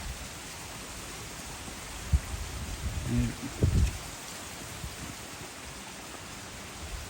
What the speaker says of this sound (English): it was supposed to rain pretty much like this for the next hour